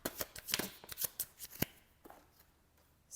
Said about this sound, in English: I have the feeling that I have to continue to shuffle.